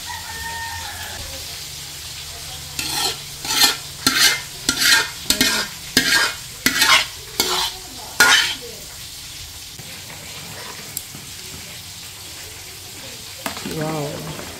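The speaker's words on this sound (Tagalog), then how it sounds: "ito na po yung sauce ng palabok. At ito po yung pasta. Atin na pong paghahaluin." Palabok pasta being mixed into its sauce, a run of about ten rhythmic wet scraping strokes in quick succession, close and fairly loud, followed by quieter handling and a brief voice at the end.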